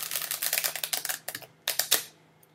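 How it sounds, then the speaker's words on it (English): Tarot cards being shuffled by hand, a quick run of crisp papery riffles and flicks, close and steady, then a couple of sharper bursts, with no talk. "let me just keep on shuffling for a little bit more"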